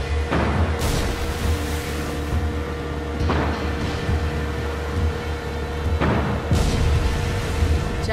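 Fireworks bursting over a celebration in the video game Far Cry 6, a few deep booming explosions spaced a couple of seconds apart, each followed by crackling decay over a constant rumble.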